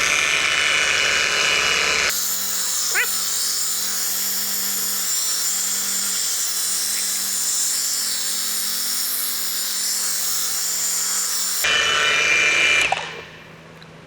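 A 20V cordless car polisher with a thick pad spins at a high, steady whine while removing oil film from glass, running continuously for about ten seconds between louder starts and stops, close up with no talking.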